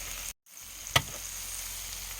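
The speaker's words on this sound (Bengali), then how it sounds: "এভাবে কড়াইটাকে নাড়িয়ে নেবো" Potatoes frying in mustard oil with chopped green chilli, stirred in a wok, give a loud close continuous sizzle that breaks off briefly, then resumes with a single sharp clank of the utensil.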